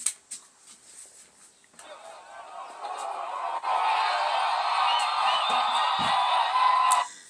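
A crowd at a Kenyan political rally cheering for Millie Odhiambo as she gets into a vehicle: scattered shouts swell into a loud, sustained roar of cheering, whoops and yells, with a brief low thump near the end.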